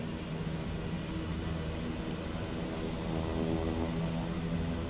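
Aircraft engine being throttled up in Microsoft Flight Simulator: a loud, steady droning roar that fills the whole clip and swells slightly toward the end, with no voices.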